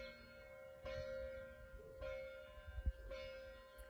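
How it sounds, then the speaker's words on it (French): Church bells ring in the late morning, three faint, evenly spaced strikes with lingering ringing tones, heard from a distance and alone. "Et il y a les cloches, c'est génial."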